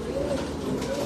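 A blue king pigeon coos at an auction, a close, soft, throaty bubbling call running through the whole brief moment, with faint voices in the background.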